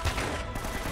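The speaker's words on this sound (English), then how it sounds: "God, I wasted a shot." A single gunshot burst from Uncharted: Drake's Fortune, close and loud, filling a short one-second moment with broadband noise.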